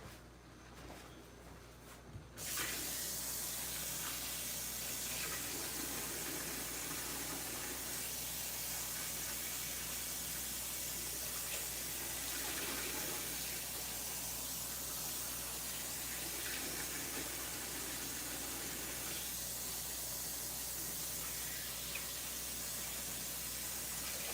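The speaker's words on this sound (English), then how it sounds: "Go ahead and get his okra a nice little rinse." Okra is rinsed under a running kitchen tap, with a steady, close hiss of water flowing continuously after a short quiet start.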